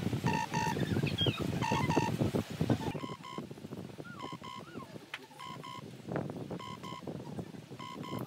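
Telephone keypad tones beep in quick pairs and groups, repeated steadily while a prank call is dialed over a windy, noisy background.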